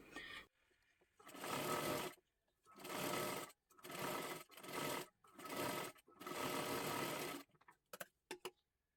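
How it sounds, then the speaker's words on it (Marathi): A sewing machine double stitching the sleeve of a girl's one-piece dress runs in six loud, close bursts of whirring stitching, each broken by short pauses, ending with a few light clicks as the fabric is handled. "आता ह्याच्यावरती आपल्याला परत एकदा डबल शिलाई मारून घ्यायची आहे."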